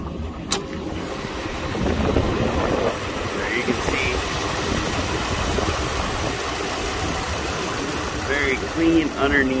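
Steady idle of a 2014 Dodge Ram 1500's 5.7-liter V8 Hemi, heard close under the open hood with a continuous low rumble throughout.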